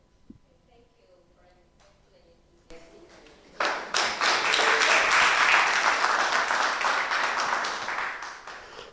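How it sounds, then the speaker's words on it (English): Applause from an audience at the end of a research competition presentation, starting after a few seconds of quiet and swelling into loud sustained clapping that continues to the end. "the applause at the end of your presentation spoke a lot"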